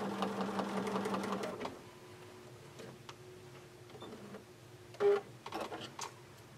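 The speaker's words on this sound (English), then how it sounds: "I'm going to sew down and back just right at that corner, so when it turns, it's tight." A sewing machine stitches back and forth across a pillow sham corner in a rapid, close mechanical whirr that stops after under two seconds, followed by quieter clicks and handling sounds.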